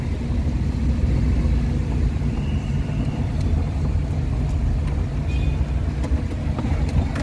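Steady, loud traffic rumble from cars and trucks on a Philippine street, engines droning continuously nearby with occasional faint higher tones, no clear voices.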